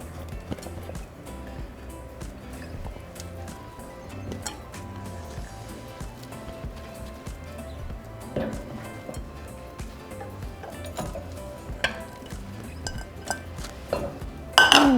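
Shredded cheese is stirred into a pot of creamy mac and cheese, giving irregular metallic clinks and scrapes of a spoon against the pot. A louder clatter comes at the end, and faint voices may sit underneath.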